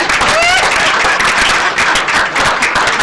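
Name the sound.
audience clapping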